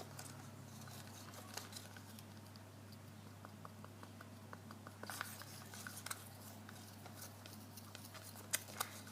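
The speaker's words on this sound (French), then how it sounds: "Et on va bien mélanger notre résine." Resin mixture stirred in a small container for a cameo inclusion, heard as faint, close scraping and light ticking taps over a low steady hum, with no talk.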